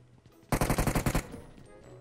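A burst of automatic gunfire in a shooting video game, roughly ten rapid shots in a tight rhythm lasting under a second, loud and close, followed by a short fading tail.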